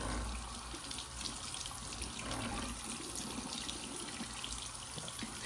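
Tap water runs steadily into a sink while hair-thinning concealer is rinsed in a wash test, a close, continuous splashing rush that carries through without anyone speaking.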